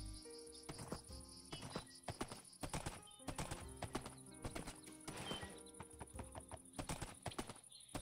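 Horses gallop in Minecraft with the Minecolonies mod, their rapid hoofbeats clip-clopping in a quick repeating rhythm, with a neigh, over a soft steady background tone.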